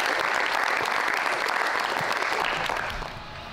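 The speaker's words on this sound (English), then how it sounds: "can we get a nice round of applause?" An audience at a farewell event claps in a dense, steady round of applause that holds loud, then fades slightly toward the end.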